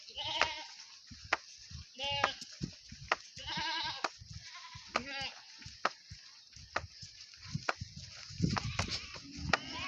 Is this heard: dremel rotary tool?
no